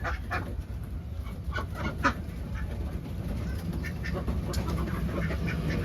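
Ducks quacking and chickens clucking in a noisy flock on a duck farm, calls overlapping continuously against steady background bustle.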